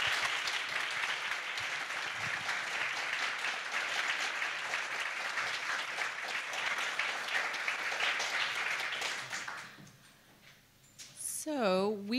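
An audience welcomes speakers to a conversation event with sustained, dense applause. The clapping lasts about nine seconds, then fades, and a voice begins speaking.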